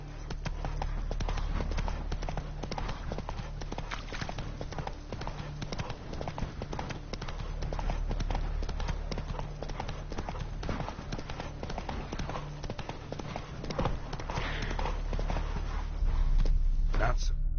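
Roach the horse gallops in a video game, with steady rapid hoofbeats running continuously under a low rumble, close and fairly loud throughout.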